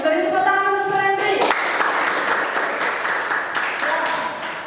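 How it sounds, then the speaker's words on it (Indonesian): A classroom of students applauds a classmate named Surendri, a dense burst of clapping that starts just after a spoken sentence and carries on steadily to the end. "Beri tepuk tangan untuk Surendri"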